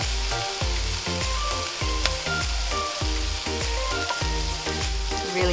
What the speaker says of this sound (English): now we're just adding in some minced garlic